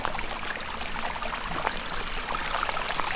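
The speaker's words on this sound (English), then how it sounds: "Here's the creek crossing" Creek water flows and trickles at a creek crossing in southwest Idaho, a steady close babble with a few brighter splashy ticks scattered through.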